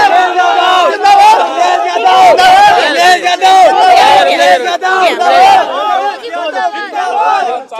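Dense crowd shouting and chanting at Rumi Gate in Lucknow during a political street gathering, loud and continuous, with voices overlapping and someone talking over the noise.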